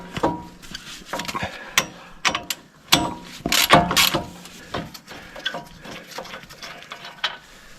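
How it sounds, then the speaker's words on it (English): A hand ratchet loosens brake bracket bolts on a Chevy truck in a driveway, giving close, irregular bursts of clicking pawl ratcheting with short pauses and metallic handling noises in between. "just taking a ratchet, taking the bolts off."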